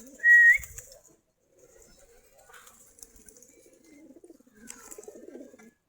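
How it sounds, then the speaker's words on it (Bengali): Native Bangladeshi giribaj pigeons cooing softly in a loft, low murmuring coos scattered across the stretch after a brief sharp whistle-like call at the start, all fairly faint and close. "সবগুলা দেশি কবুতর, দেশি গিরিবাজ বলে, কেউ গুল্লা বলে।"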